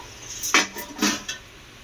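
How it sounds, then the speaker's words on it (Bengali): A metal lid lifted off a cooking pot of pointed gourd curry, two or three clinking knocks and a short scrape over a quiet background. "তো দেখাচ্ছি এবারে ঢাকনাটা খুলে"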